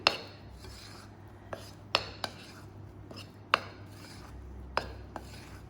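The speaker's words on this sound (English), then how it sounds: "I'm just going to fold that through and mix that through" Ricotta and flour being folded together in a bowl for gnocchi, soft rubbing and scraping with sharp occasional clinks of a utensil on the bowl, close and quiet, with no talking.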